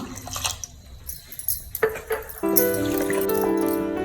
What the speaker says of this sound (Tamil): இப்போ நான் தண்ணி சேர்த்துக்கிறேன் கொஞ்சம்.